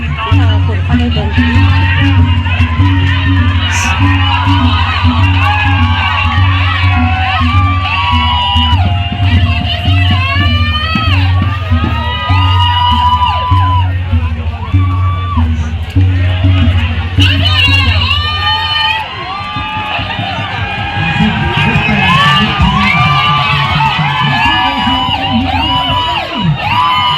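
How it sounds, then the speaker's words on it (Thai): Large festival crowd cheering and whooping at a Bun Kong Pueng celebration in Thung Mi Chai, with a loud, steady drone of voices, chanting and shouts running throughout, thinning slightly near the end. "ไปเบิ่งกองเชียร์นี่เนาะ"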